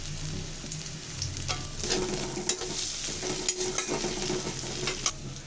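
Chopped green chillies sizzle and crackle in a pan with frying onions and bay leaf while chola bhuna is being cooked, with bursts of stirring and scraping over a steady hiss.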